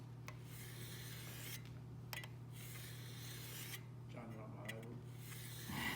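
A card scraper is rubbed back and forth across an abrasive sharpening grit in a woodworking shop, giving a run of close, gritty rasping strokes over a low steady hum.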